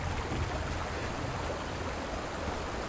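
Rushing water from a waterfall and stream in Conan Exiles makes a dense, steady roar with no breaks, loud and close, with no voices over it.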